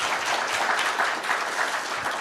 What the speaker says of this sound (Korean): 발제자, 토론자 세 분께 여러분 박수를 좀 보내주시기 바랍니다.